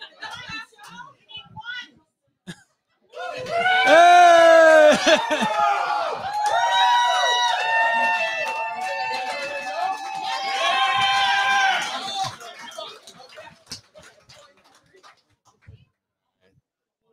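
A crowd in Gritty's bar in Portland, Maine breaks into loud whoops and cheering shouts that last several seconds, then fade back toward quiet chatter.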